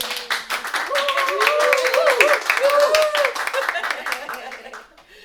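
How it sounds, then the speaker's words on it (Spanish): An audience at a bookstore talk on women in music applauds a guest musician, a dense patter of clapping with chuckles and voices mixed in, tapering off near the end. "Un aplauso por este"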